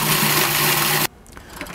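A food processor grinds praline made with oil, a loud steady whirring motor with a constant low hum that cuts off abruptly, leaving faint quiet afterward.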